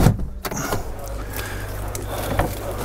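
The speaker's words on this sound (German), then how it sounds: "indem man den Sitz hier nach vorne fährt" A Jeep Wrangler 4xe electric seat motor drives the seat forward inside the cabin, giving a steady, close mechanical whir that runs for a few seconds after a brief thump at the start.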